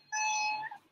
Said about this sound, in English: can you hear a meow? I can, it's so cute. It's so soft.